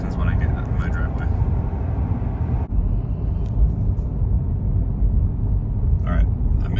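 A brand-new 2023 Chevrolet Corvette C8 3LT cruises in third gear through a residential subdivision, its engine a steady, broad rumble from inside the car with occasional speech over it.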